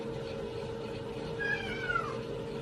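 A cat gives a single drawn-out meow midway through, fairly clear over a steady background hum, with no speech.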